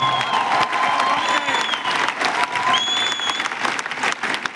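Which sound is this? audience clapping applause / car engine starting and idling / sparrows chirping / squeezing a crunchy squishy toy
audience clapping applause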